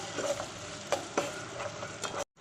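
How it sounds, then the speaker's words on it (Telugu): Onions frying in a pan for chicken curry, a steady close sizzle broken by a couple of sharp stirring scrapes before cutting off abruptly. "నెక్స్ట్ ఆనియన్ ఇవి ఫ్రై చేసుకోవాలి."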